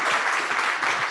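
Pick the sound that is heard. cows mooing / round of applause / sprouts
round of applause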